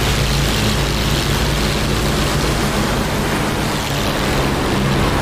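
Warbird propeller aircraft taking off together in the flight game DCS World, a loud steady droning engine roar with broadband noise throughout and no voices.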